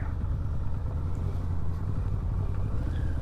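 Yamaha V-Max motorcycle engine, an older bike with about 100 miles in 30 years, rumbling low and steady at close range through a tight, slow turn with no talk over it.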